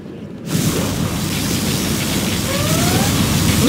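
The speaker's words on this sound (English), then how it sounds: "particle cannon activated." In Command & Conquer Generals Zero Hour, a particle cannon fires: a heavy booming blast erupts after a quiet moment, then settles into a loud, continuous roaring rumble with faint rising whines.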